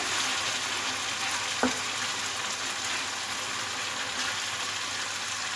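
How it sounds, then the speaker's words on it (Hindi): Spiced tomato masala for baingan bharta fries in a pan with a steady, close sizzle and crackle throughout, interrupted once by a single soft knock of a utensil partway through. "ये देखिए, मसाला जो है अच्छी तरह से भून गया।"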